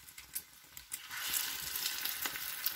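Food fries in a pan, with scattered pops and crackles at first building into a steady, dense sizzle; no one speaks.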